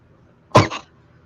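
A single sharp sneeze bursts out close by, followed by a quick second puff, with quiet around it.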